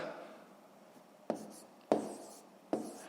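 Numbers for a long division problem in a fifth-grade maths exercise being written out by hand, heard as three short, quiet scratchy strokes spaced about a second apart over a faint room background.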